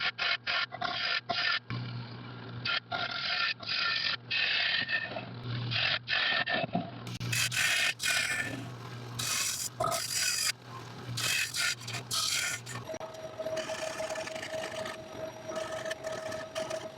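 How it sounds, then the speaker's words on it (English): Hand sanding a square black walnut bowl on a woodturning lathe gives repeated rhythmic scraping and rubbing strokes, loud and close, followed by a steadier whirring stretch with a faint hum. "back to sanding and try and get a little better finish on"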